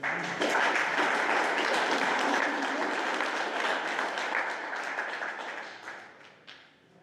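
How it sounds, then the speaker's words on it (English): Steady applause from a large convention crowd, a dense wash of many hands clapping at once that holds strong before gradually thinning and fading toward the end. "people were clapping"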